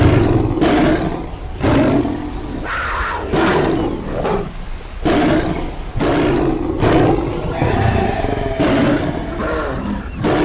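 Bengal tiger from the Ark Rainbow Zoo mod in a video game letting out repeated loud, close, growling roars in quick succession, each a few seconds long, with no talking over them.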